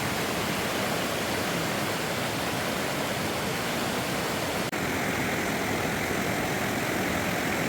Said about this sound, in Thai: ดูน้ำตกนะน้ำตกนะครับข้างน้ำตกบนครับสวยงามเลย